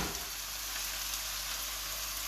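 Four chopped onions frying in a pan for a lamb chop curry, a constant dense sizzle at close range, uninterrupted and without speech.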